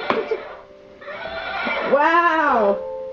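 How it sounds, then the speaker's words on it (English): A feisty little horse whinnies close by in a short, rising-and-falling neigh lasting about a second, after a few brief snorts and noises at a family Christmas gathering in 1997. "He's a feisty little horse."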